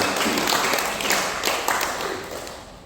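A church congregation applauds during a Sunday service, with dense, steady clapping that swells and then gradually tapers off, filling the room.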